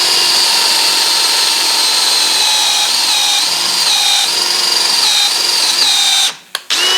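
A power drill boring through a Rover differential casing, a loud steady high-pitched whine that holds throughout with slight dips in pitch, then cuts off abruptly near the end.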